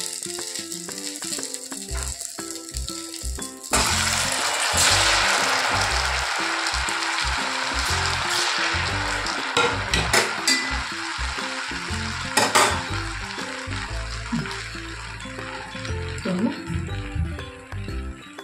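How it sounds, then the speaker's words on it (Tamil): Dough snacks dropped into hot oil burst into a sudden loud sizzle that continues steadily, with occasional utensil clatter and a voice speaking over the frying. "இப்போ நம்ம எண்ணெய் நல்லா காஞ்ச உடனே எண்ணெயில் போட்டு எடுக்க வேண்டியது தான்."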